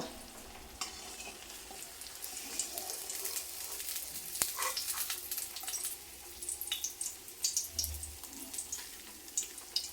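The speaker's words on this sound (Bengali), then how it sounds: "তো মাছটা আরেক পিঠটাও ভালোভাবে ভাজা হয়ে গেছে।" Pabda fish frying in hot oil in a home kitchen, a steady sizzle and crackle with occasional stirring and clinks, no voices.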